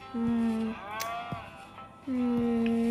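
Video-game cattle moo in long, steady bellowing calls, two clear moos separated by a short pause, loud and close with a faint background hum.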